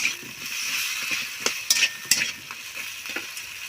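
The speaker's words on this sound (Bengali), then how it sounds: "এই বড়াগুলো ঢেলে দিলাম। কিছুক্ষণ নাড়াচাড়া করব" Chickpea fritters (bora) sizzle steadily in a frying pan while a utensil stirs them, adding scraping and sharp metallic clinks against the pan, close and fairly loud, with no talk.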